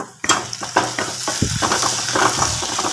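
Egg roast frying in a pan is stirred: a lid comes off with a sharp clatter, then a spoon scrapes and knocks through the sizzling mixture in uneven strokes, close by and without voices.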